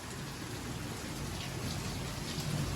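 Heavy nighttime rain pours down in a dense, steady hiss of drops striking surfaces, moderately quiet and continuous, with no talking.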